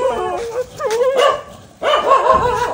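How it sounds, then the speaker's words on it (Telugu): Several dogs barking, yipping and whining on a road at night after rain, loud and close in two bursts separated by a short pause. "కుక్కలు అరుస్తున్నాయి."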